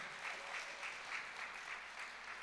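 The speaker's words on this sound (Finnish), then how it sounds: "Aplodit sille." An audience at an event claps in a steady, moderately distant round of applause that holds evenly throughout.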